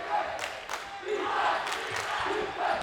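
High school basketball crowd at Logan High cheering during a game against Green Canyon, a broad, lively roar of voices rising and falling with bursts of shouting.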